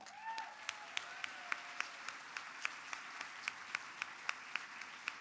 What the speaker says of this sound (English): Please join me in a round of applause for Jessica Alba and Mayor Karen Bass